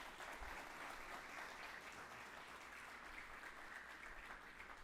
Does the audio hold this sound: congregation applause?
yes